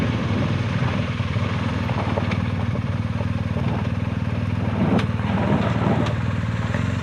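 A motorcycle engine braking on a tour in Tasmania, a steady loud engine drone with wind and road rumble running throughout.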